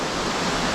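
Roaring waterfall inside a Welsh metal mine, a dense, steady rush of falling water filling the space at close range, loud and unbroken with no voices.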